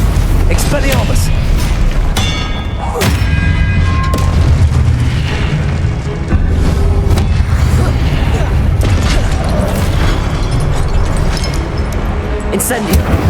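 Spells such as Expelliarmus and Incendio fire in Hogwarts Legacy, loud booming bursts and crackling magical blasts in quick succession over busy game effects, with a player shouting the incantations throughout.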